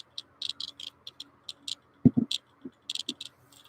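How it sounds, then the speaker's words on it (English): A Radiacode 101 radiation detector's small speaker ticks out irregular, close, crisp clicks in uneven clusters, with a couple of duller, louder taps midway and no talking. "So there's both the Radiacodes ticking away."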